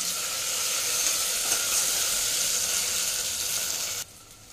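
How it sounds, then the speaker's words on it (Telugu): A teaspoon of ginger garlic paste sizzles in hot oil in a pan, giving a loud, steady frying hiss that cuts off abruptly near the end. "అల్లం వెల్లుల్లి పేస్ట్ కొంచెం వేస్తున్నాను, 1 టీ స్పూన్ వేస్తున్నాను అంతే."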